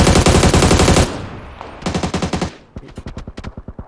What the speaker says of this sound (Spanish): Me disparan por la espalda.